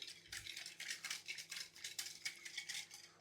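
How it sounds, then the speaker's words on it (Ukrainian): Quick, rhythmic scraping strokes of a whisk mixing flour and sugar in a bowl, a series of bright swishes repeating steadily at close range, with no talking. "Тепер беремо вінчик і все це гарно перемішуємо."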